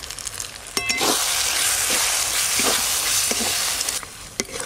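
Ground chili, turmeric, coriander and cumin fry in oil with tomatoes, a loud, steady sizzle broken by several stirring scrapes and knocks of a spoon, close by with no talking.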